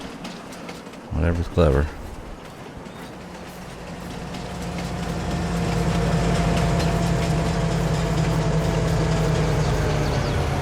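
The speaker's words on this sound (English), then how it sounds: "And there's the train coming backwards." A train reverses in Farming Simulator 22. A low mechanical rumble with a faint whine builds gradually and then holds steady and prominent, after a brief spoken remark near the start.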